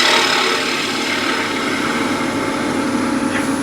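A woodturning gouge rides its bevel along spinning wood on a lathe, producing a steady, close, continuous scraping hiss that holds even throughout with no talk.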